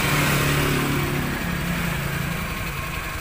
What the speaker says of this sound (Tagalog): napakatahimik ang makina